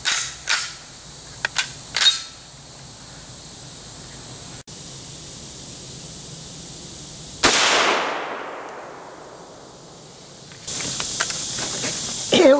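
A single loud M1 Carbine rifle shot fired at a distant target on an outdoor range, sharp crack followed by a long fading echo, preceded by a few faint handling clicks.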